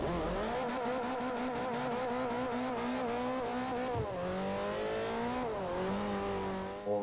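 A Toyota MR engine in Forza Motorsport 4 accelerates hard on an Indy Racing League circuit, close and loud, rising in pitch through gears with brief drops at shifts, alone without talk.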